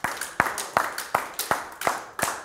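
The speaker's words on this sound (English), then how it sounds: "Give the Lord a hand clap." Church congregation clapping in unison, a series of about a dozen sharp, evenly spaced claps in a steady rhythm, fairly close and clear.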